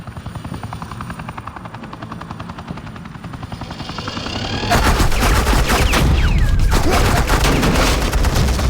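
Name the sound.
gunfire in a Batman video game battle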